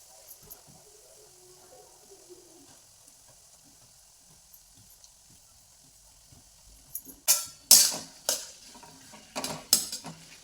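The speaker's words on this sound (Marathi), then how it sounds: "हे दोन मिनटं असं हलवून घ्यायचं" Diced potatoes for sabudana khichdi are stirred in a pan, at first only faint background hiss and low murmurs, then from about seven seconds a run of loud close scraping and clattering strokes against the metal.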